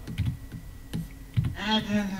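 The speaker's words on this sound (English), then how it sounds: "you're hearing me tap the tablet the tablet pen against my screen" A tablet pen taps against a screen in a small closet recording space, a series of sharp, close clicks in an irregular rhythm, with brief talk in between.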